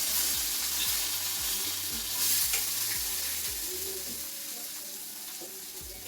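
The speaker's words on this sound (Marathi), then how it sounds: "कांदा परतून घेते" Onion sautés in a pan with mustard seeds, cumin and curry leaves, giving a steady, close sizzle and crackle throughout, with faint scraping as it is stirred.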